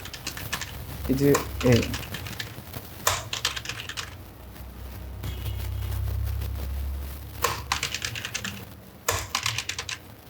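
Keys clatter on a computer keyboard while text is typed into Microsoft Word, a close run of quick irregular taps with a few pauses, and a brief voice speaks early on.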